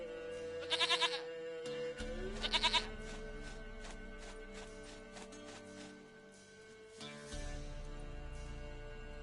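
Goat bleating in the video game The Witcher 3, two short quavering bleats near the start over steady game music, then a held tone and resumed music.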